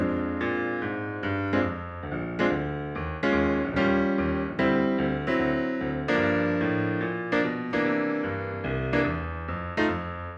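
A piano plays blues chords, with suspended fourths resolving down a half step to the third, struck as a sequence of rhythmic chords and clear sustained voicings, close and alone without any talking.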